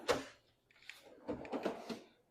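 A drawer in a home wood shop slides open, giving a few close clunks and rattles of the runners and loose contents at a quiet level.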